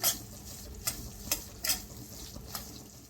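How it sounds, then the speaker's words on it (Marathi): Semolina dry-roasting in a pan for sweet sheera, stirred with a spoon that makes several distinct scraping strokes over a quiet, soft background hiss. "आता आपल्याला इथे रवा चांगला लालसर होईपर्यंत भाजून घ्यायचा आहे, अगदीच लाल नाही करायचा"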